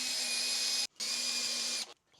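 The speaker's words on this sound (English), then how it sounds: "I'll clean it up with this Dremel bit" Dremel rotary tool running in two sustained bursts with a brief pause between, a loud, steady high-pitched whine with a constant tone, cutting up close with no talk.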